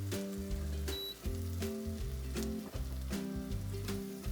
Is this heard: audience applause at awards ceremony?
no